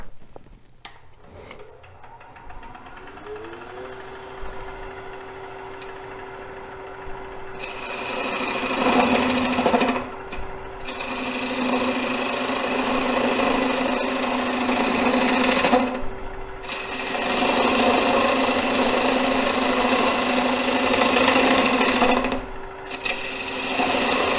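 Wooden bowl being cut on a wood lathe: the motor spins up with a rising whine, then long bursts of loud gouge-on-wood cutting hiss and rasp over a steady hum, broken by short pauses.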